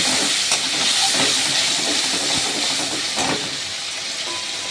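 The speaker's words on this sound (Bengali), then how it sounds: "এবার এর মধ্যে আমি যে মশলাটা করে রেখে দিয়েছিলাম মশলাটা দিয়ে দেবো" Spice paste frying in a hot pan of oil with bay leaves for a vegetarian kohlrabi curry, giving a steady, fairly loud hiss with a few crackling spikes, heard alone without talk.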